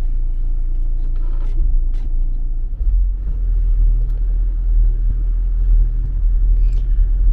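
A car driving through town produces a loud, steady low engine rumble and road noise with slight surges, plus faint clicks and rattles inside the cabin.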